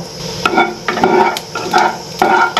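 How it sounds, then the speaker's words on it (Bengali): Cumin seeds sizzle in hot mustard oil in a kadai, with a close, loud frying crackle rising and falling in rhythmic bursts as the pan is stirred. "জিরে ফোড়ন দিয়ে দেব"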